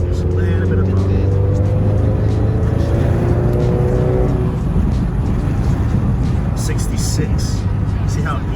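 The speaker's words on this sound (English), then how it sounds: "The car already starts pulling way harder." A car with an upgraded front-mount intercooler accelerates hard under throttle, the engine note climbing steadily inside the cabin, loud and continuous, with road and wind roar building up behind it.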